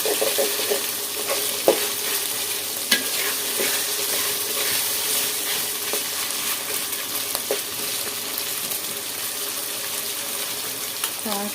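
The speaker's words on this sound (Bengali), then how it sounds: "এখন খুব ভালো করে আদা রসুন বাটাটা একটু ভেজে নিতে হবে।" Ginger-garlic paste and onions frying in a pan, a steady sizzle with repeated clinks and scrapes of stirring throughout, close by, with no speech.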